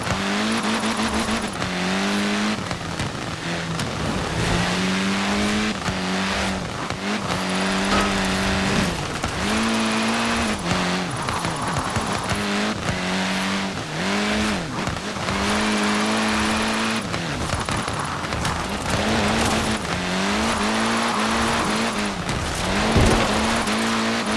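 A race car drifting in the video game Forza Horizon 4, its engine revving and dropping in repeated waves while tires squeal continuously through long power slides, loud and close throughout.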